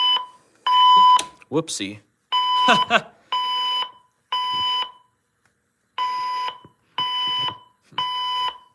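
A fire alarm demo board sets off a loud, steady electronic alarm tone pulsing in regular on-off bursts, with a person exclaiming and talking between and over the early pulses.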